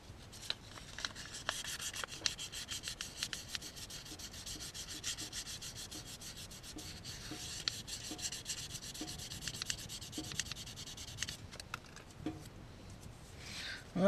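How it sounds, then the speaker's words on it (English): Wood being sanded by hand at a camp, a steady rasping rub of repeated strokes, close and alone. "the grains in the wood kind of disappear when sanding it"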